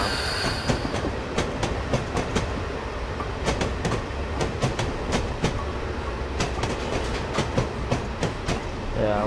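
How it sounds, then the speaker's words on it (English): A train in Train Simulator on the Somerset and Dorset Joint Railway slows into a station, with steady rolling noise and repeated loud clickety-clack wheel beats over rail joints throughout. "That train actually slowing down."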